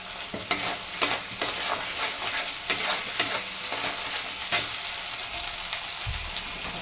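Ground spices with coriander, cumin, salt and Kashmiri chilli powder frying in a pan for capsicum paneer, a continuous close sizzle broken by a series of sharp spatula scrapes and clinks, with no voices.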